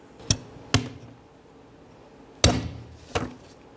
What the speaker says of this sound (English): go ahead and punch them out with a small punch